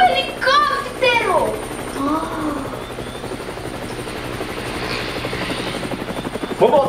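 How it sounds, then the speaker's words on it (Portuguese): A helicopter drones overhead with a steady rotor buzz, loud and sustained, while a voice chatters briefly at the start and again near the end. "Tá passando no céu, vamos lá ver, gente! Vamos dar tchau pro helicóptero!"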